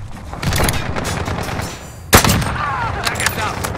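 Gunfire in Call of Duty Modern Warfare: loud, close bursts of rapid automatic fire with a sharp blast just past the middle, while voices talk over the shooting.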